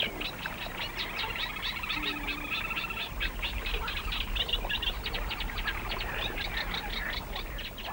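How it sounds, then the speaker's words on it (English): A female little crake calls from dense reeds at a lake, its repeated notes mixing with a busy chorus of frogs and other birds, steady and moderately close throughout with no talk. "In the background, a female little crake, also not an English species."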